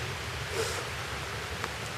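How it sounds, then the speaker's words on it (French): Steady rain falls outdoors during a metal-detecting outing, making a soft, even hiss with a faint patter, and there is no talking. "sous cette pluie que vous entendez"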